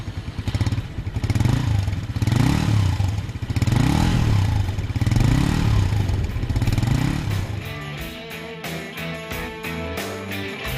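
A Bullit Cooper S 125 motorcycle with a sausage-shaped silencer idles with a deep, throaty, pulsing note, revving in several rhythmic swells up close before settling into a lumpier, clattering idle.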